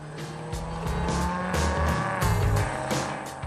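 A Maserati with a Ferrari-built engine revs hard and loud, its pitch climbing and dropping through gear changes with a throaty, rasping note, tire noise mixed in as it drives past close by.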